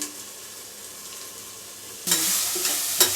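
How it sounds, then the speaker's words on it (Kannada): Vegetables frying in oil for fried rice, a soft steady sizzle that suddenly grows louder and brighter partway through, with a few stirring knocks. "ಈ ಥರನೇ ಎಣ್ಣೆಯಲ್ಲೇ ಬಾಯ್ಲ್ ಮಾಡ್ಕೋಬೇಕು ಫ್ರೈಡ್ ರೈಸ್ಗೆ ಚೆನ್ನಾಗಿರುತ್ತೆ"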